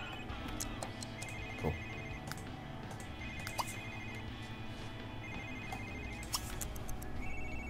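A telephone in The Sims 3 rings repeatedly in bright electronic bursts over game background music, with a brief spoken word in the middle.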